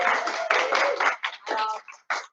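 A room at a school information evening breaks into clapping mixed with cheering voices, the applause swelling and then dropping off in short bursts.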